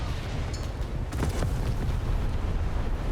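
Naval gun ripple fire from HMS Cadiz gameplay, a dense, continuous roar of overlapping shell blasts and rumble filling the whole stretch with no clear gaps between shots.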